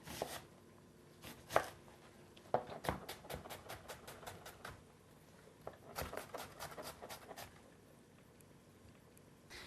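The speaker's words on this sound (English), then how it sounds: "So chop up the onion." A knife chops an onion on a cutting board in irregular bursts of sharp, close taps, sometimes in quick runs, fairly quiet overall with no talk.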